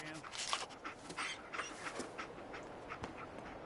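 The dog Dogmeat in the Fallout 4 video game panting steadily in rapid breaths, mixed with soft whimpers and game ambience, with a voice talking over it.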